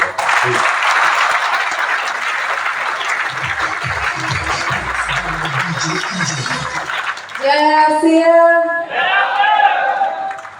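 Loud applause from a crowd welcoming a woman to the stage at a business gathering. It runs steadily for about seven seconds, then fades as a voice begins speaking.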